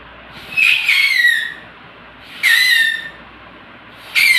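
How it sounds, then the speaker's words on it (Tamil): A homemade paper whistle made from folded paper with two holes punched in it, blown in three shrill, high whistling bursts, each lasting about a second, with short quiet gaps between them. "நம்மளோட பேப்பர் விசில் ரெடி"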